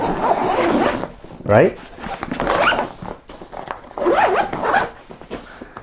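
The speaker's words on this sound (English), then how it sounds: "So the main zippers are aqua guards and they are great" Zipper on a Goruck Kaidan GR2 backpack with AquaGuard water-resistant main zippers and rain flaps, pulled in a short near rasp between stretches of close talking.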